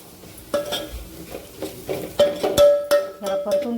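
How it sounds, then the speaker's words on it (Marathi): A spoon scrapes and taps against a pan, stirring ground peanut powder into a hot oil tempering for a Maharashtrian potato curry, with soft sizzling under uneven knocks. "त्याला छान मिक्स करून घ्यायचे फोडणीमध्ये."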